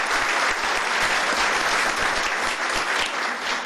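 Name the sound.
applause for five-year employees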